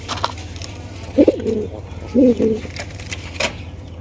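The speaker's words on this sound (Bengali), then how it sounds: "দেখতে পাচ্ছেন আরো এক জোড়া ডেনিশ কবুতর" Danish pigeons cooing: two low, throaty coo phrases about a second apart over a faint hum and quiet background noise.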